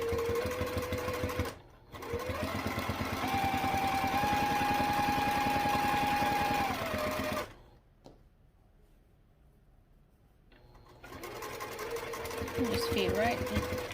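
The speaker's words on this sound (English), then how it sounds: "we need to sew down these straps" A sewing machine stitches down backpack straps in two close bursts of fast, steady whirring, pausing briefly between them, then falls quiet before faint handling noises return.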